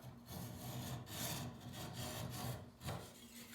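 Hand file rasping along the steel edge of a woodworking card scraper, with close, repeated gritty strokes in a steady back-and-forth rhythm and no voices.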